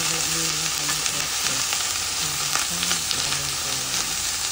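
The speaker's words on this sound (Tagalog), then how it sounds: "Hinalo ko na yung sibuyas at saka bawang guys." Onions and garlic sizzling loudly in a pan for ampalaya with ham, with dense, continuous frying noise and repeated light scrapes of stirring throughout.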